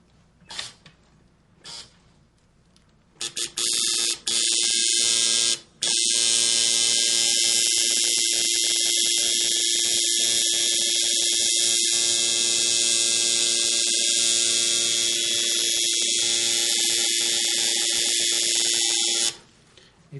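Tattoo machine buzzing steadily and close up while drawing a black line, a loud, sustained electric hum that starts after a few short bursts and runs nearly twenty seconds before cutting off.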